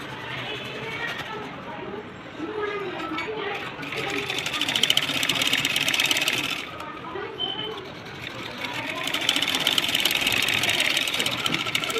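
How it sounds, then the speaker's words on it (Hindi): A sewing machine runs double stitches on a plain blouse in bursts of steady, rapid whirring and clatter, stopping and starting, while someone talks over it. "ये डबल सिलाई लगा दी हमने"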